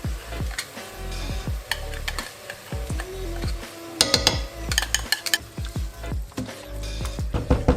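Tomato paste sizzles in a hot pot for mafé while a spoon stirs and scrapes against the metal, producing repeated clinks and knocks over a steady frying hiss, close and fairly loud, with no talking.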